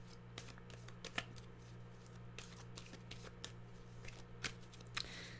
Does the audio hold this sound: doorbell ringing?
no